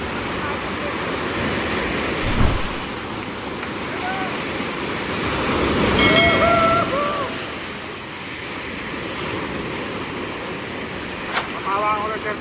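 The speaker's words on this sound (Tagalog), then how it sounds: "Itong malakas ang alon," Continuous roar of strong ocean surf and rushing water at a La Union beach, with wind noise buffeting the microphone, swelling louder midway, with faint voices and bird-like chirps.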